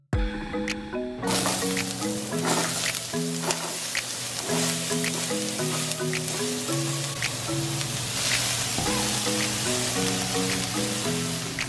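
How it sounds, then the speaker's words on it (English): Onions and bell peppers fry for fried rice, a loud continuous sizzle with crackles, with tonal music running underneath throughout. "Once you cook the onions and bell peppers, it's time to add the mushrooms."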